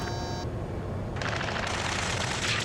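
Gunfire in Ace Combat 7, rapid automatic bursts that start about halfway through and run on densely behind a tonal electronic beep, loud and close, with no speech during it.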